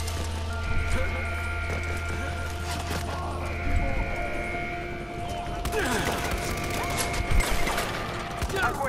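Gunfire in the video game Far Cry 4 during an attack on a fortress, sharp bursts of shots in the later part over a busy game soundscape with steady tones and other effects.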